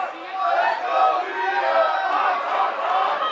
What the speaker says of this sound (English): The RVA Pro crowd coming alive for the challenger.